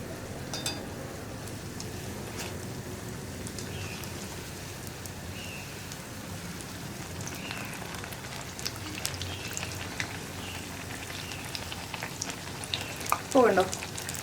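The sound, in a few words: plantain bajji frying in oil, piece being flipped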